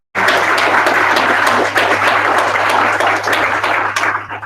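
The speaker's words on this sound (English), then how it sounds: "If we could give them one more round of applause." A dense, steady round of applause from an audience thanking panelists at a global development career day event, starting abruptly and sustained loudly throughout with no talk over it.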